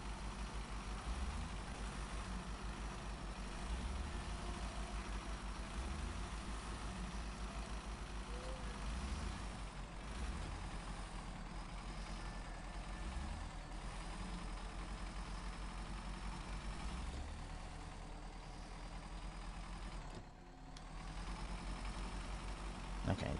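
Heavy truck engine in the Snowrunner off-road driving game, a steady low rumble and idle drone running throughout at a constant loud level, with a brief dip near the end.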